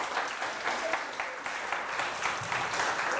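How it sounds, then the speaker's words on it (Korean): At a 2014 joint training workshop for Korean-language school teachers in Brazil, an audience claps in honour of future teachers: full, continuous applause from many hands, fairly close and loud, steady throughout with no talking. "우리 미래의 한글학교 교사들한테 한번 박수 좀 쳐주실래요?"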